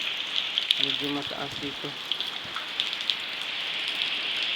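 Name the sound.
rain falling during the rainy season in Leyte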